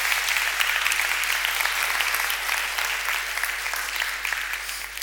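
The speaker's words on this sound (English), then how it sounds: "Give a round of applause." Audience applause in a room after a volunteer's music performance, steady dense clapping for about five seconds at even loudness with no voices over it.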